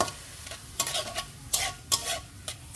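Stir-frying in a pan while cooking a Bengali-style mushroom curry: spatula scrapes and sizzling bursts come in irregular clusters over a steady low fry, close by and with no talking.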